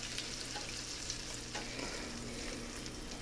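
Crushed tomatoes go into a hot pan still coated with steak juices, giving a steady soft sizzle with faint stirring scrapes throughout.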